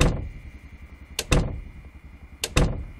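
Two door closings in Project Zomboid, each a sharp knock-and-thud pair, one about a second in and another near the end, loud and close over a low steady hum.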